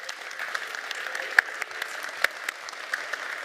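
Audience applause for first-timers at a live Codegarden conference session, a light, thin patter of clapping from a modest crowd with a few sharper individual claps standing out, no voices on top.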